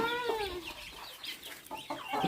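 Chickens cluck and call softly nearby, a few short rising and falling squawks against a quiet farmyard background.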